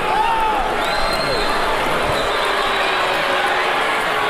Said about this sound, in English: The crowd comes to its feet and they cheer as one.